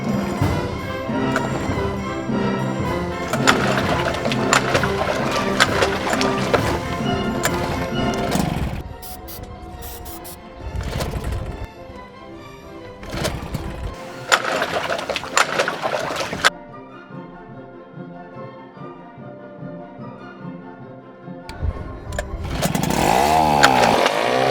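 An old, free outboard motor of uncertain condition runs loud and rough with a harsh buzzing drone, cutting out and restarting several times before revving again near the end.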